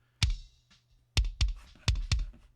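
A soloed drum bus run through parallel compression hits hard and sparse: one punchy strike, a pause, then a quick burst of four snappy hits with bright high-end smack, close and dry.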